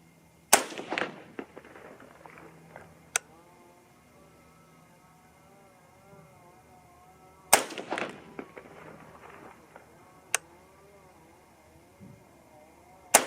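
6.5 Grendel AR-15 rifle fired at a target outdoors, two loud sharp cracks several seconds apart, each trailing off in a rolling echo, with faint clicks and handling noise between.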